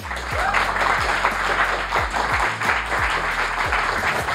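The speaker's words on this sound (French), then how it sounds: "je vous demande un tonnerre d'applaudissements pour Ronan et Charlotte." A large crowd claps loudly and steadily, dense applause filling the space, with thumping low beats running underneath.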